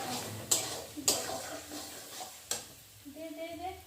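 Pasta is stirred and fried in a kadai, with a few sharp spoon knocks against the pan over a soft sizzle, and a voice is briefly heard near the end.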